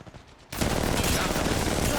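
Sustained automatic gunfire in Apex Legends Mobile bursts in abruptly after a quieter moment and rattles on loud and dense, with rapid overlapping shots.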